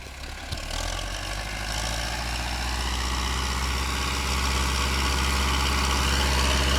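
A farm vehicle's engine runs with a steady, loud low drone as it drives toward the listener in a field, holding a constant throttle throughout.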